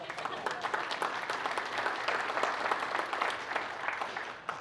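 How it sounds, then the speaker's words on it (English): An audience claps steadily at a private-equity and storage business conference, a dense, even wash of many hands held at moderate distance for several seconds, with no voice over it. "Yeah, clap for Jack."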